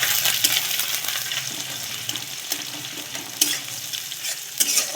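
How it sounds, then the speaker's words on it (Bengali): Onions fry in hot oil in a wok with a continuous bright sizzle and a few scraping stirs, steady and close throughout. "এবার আমি প্রথমে পেঁয়াজটাকে দিয়ে নেব।"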